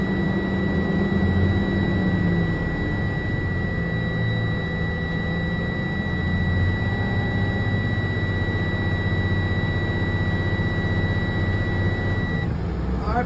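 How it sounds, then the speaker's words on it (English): Idling and revving bus engine during a vehicle inspection, a steady low diesel drone with two high alarm or warning tones sounding continuously over it, then cutting off near the end. "I'm gonna rev my engine up between 15 and 20 RPMs."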